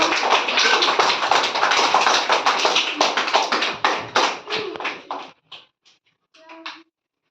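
Small group of children clapping hands together in a classroom activity, rapid brisk claps that thin out into a few scattered taps and then stop, fairly close.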